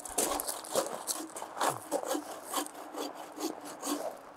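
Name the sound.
sawing wood with hand saw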